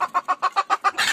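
Desi chickens on a poultry farm give seven evenly spaced, close clucks in quick succession, then a brief, noisier squawk at the end, with no talk.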